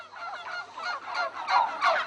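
Turkeys, the plump India hen of Renaissance poultry farms, gobble in a steady run of rapid, warbling calls lasting about two seconds, with the louder bursts coming toward the end. No voices are present.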